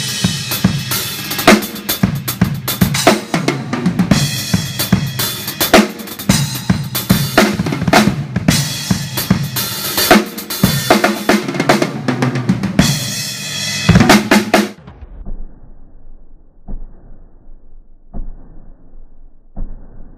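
A drum kit played with JZABER maple funk drumsticks, a busy, loud, continuous groove for about fifteen seconds that then stops, leaving a few faint scattered hits.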